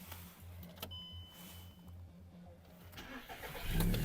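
Volkswagen Golf 5 hatchback from 2008 with a 1.6 MPI petrol engine starting up: a steady rhythmic idle pulse, then a louder surge near the end as it catches, fairly close with no talk.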